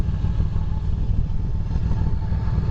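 A Yamaha V-Star 950 motorcycle engine idles steadily nearby, a low, even rumble with a constant throb and no speech.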